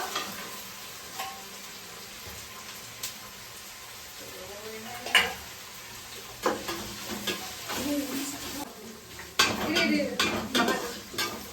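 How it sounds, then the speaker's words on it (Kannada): Chili frying in a pan for a first-attempt biryani: soft sizzle under repeated stirring, with sharp scrapes and clinks of a utensil against the pot that grow busier and louder toward the end. "ಸೊ ಚೆನ್ನಾಗಿ ಫ್ರೈ ಮಾಡಬೇಕು ಇವಾಗ"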